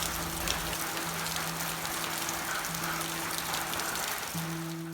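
Rain falls outdoors near a wrap-around porch, a steady wash of drops that lasts the whole stretch. A faint, constant hum runs underneath it.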